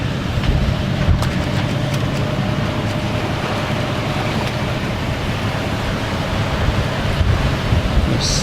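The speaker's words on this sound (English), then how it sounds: "we've got some wind and we're sailing" Steady wind and wave wash while sailing a boat on a club summer cruise, a loud continuous rush with microphone wind buffeting and no talk.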